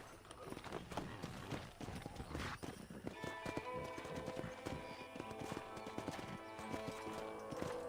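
Horses gallop in the Western video game Red Dead Redemption, a pack of wild horses with loud rapid hoofbeats and a whinny, followed by a busier stretch of layered game sound.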